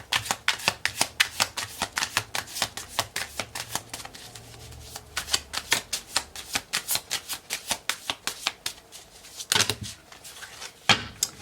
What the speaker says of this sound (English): let me pull from this other deck and see what comes up